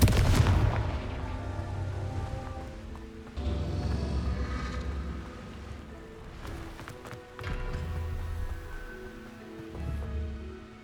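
Confringo blasting spells explode during Hogwarts Legacy gameplay, a series of deep booming blasts with rumbling tails recurring every couple of seconds over constant game ambience.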